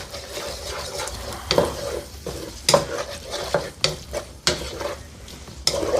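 Paprika is stirred into garlic butter taco filling sizzling in a pan: a steady fry hiss, broken by several sharp scrapes and knocks of the spoon against the pan.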